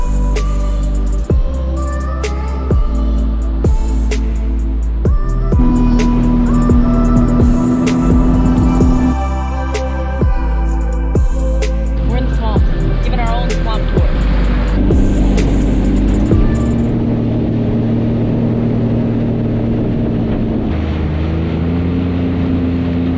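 Sea-Doo jet ski engine running on water near Morgan City, droning loud and close with steady rises and falls in pitch as the throttle shifts, plus occasional splashes and rattles and no voices.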